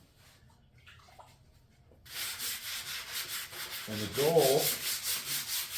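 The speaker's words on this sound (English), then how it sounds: "We're going to do some wet sanding." A 1972 Suburban convertible's car body is wet sanded with 220 grit sandpaper and water, rhythmic rasping strokes starting after a quiet stretch and continuing close and steady, with brief talk at the start.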